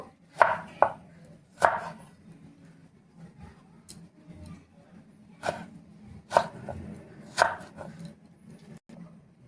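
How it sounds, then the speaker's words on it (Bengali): Knife chopping eggplant into small pieces on a cutting board, a series of close, irregular thunks, some in quick pairs, over a quiet kitchen background with no talking. "বেগুনটা কিন্তু এখানে আমি একদম ছোট ছোট টুকরো করে কেটে নেব"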